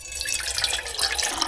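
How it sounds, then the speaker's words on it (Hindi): Water poured from a tap into a pot for Maggi noodles, a brief, steady splashing trickle at moderate level, no talk. "पहले तो इस यहाँ पे डालते हैं पानी"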